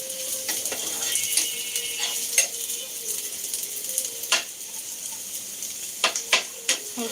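Food frying in a pan at home, a soft steady sizzle punctuated by several sharp clicks and scrapes of a utensil against the pan.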